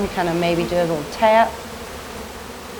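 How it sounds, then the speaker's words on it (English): Honey bees from a three-pound package buzzing steadily as they are shaken and tapped out of the cage into a hive, a soft insect drone under close talk. "And then we're just going to dump the bees."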